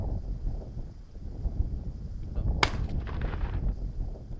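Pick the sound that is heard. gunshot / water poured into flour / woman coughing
gunshot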